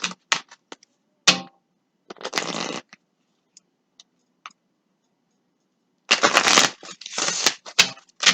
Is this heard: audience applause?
no